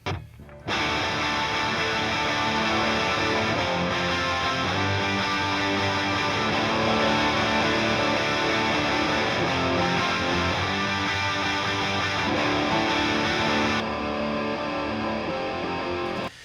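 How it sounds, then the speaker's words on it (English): Two layered distorted electric rhythm guitars chug steadily through a rock mix, dense and loud throughout, stopping abruptly near the end. "now let's add in the second rhythm guitar"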